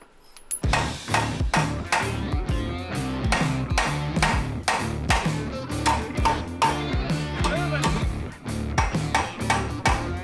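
Rapid metallic hammer blows ring out on car suspension parts during a coilover fitting on a Conquest TSI, loud and close in a dense, fairly steady series with short pauses.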